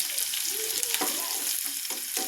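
Coconut pieces, garlic and shallots fry in a pan with a steady, close sizzle and occasional stirring scrapes, alone without speech.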